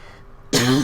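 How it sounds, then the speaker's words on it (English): A single close, sharp cough bursts out abruptly after a moment of near silence, with no talking. "You and I both with the coughs"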